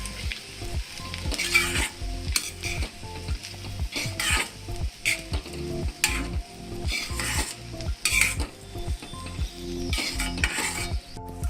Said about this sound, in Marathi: आपण आता हे छान परतून घेतलेलं आहे फोडणीमध्ये